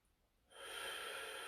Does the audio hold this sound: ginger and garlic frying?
no